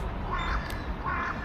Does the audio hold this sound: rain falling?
no